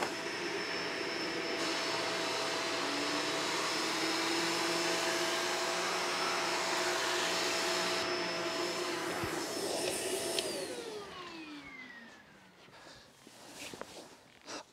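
A Shark DuoClean vacuum cleaner runs loudly on carpet with a steady whining drone, then its motor pitch falls away as it shuts down, leaving faint handling noises.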